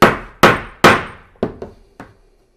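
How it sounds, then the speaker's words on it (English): A hammer strikes a metal letter stamp on a jewelry disc three times with loud ringing blows, followed by a few lighter taps, close and alone. "You're going to take your hammer and just give it 2 or 3 good hits."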